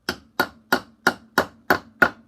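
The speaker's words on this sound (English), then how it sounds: "Take your hammer, a little tap" A hammer strikes metal pins held in a vise, making seven sharp, evenly spaced taps about a third of a second apart, each with a short ringing decay, close and clear with no talk.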